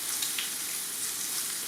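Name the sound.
Wagyu ribeye steak searing in a pan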